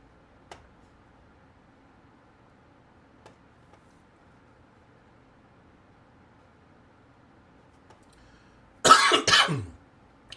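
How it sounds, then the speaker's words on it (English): A sudden burst of close, loud coughing near the end from a live play-by-play commentator calling a Cardinals at Cowboys football game, following a long near-silent stretch with only faint ticks. "Don't know why I'm coughing so much all of a sudden."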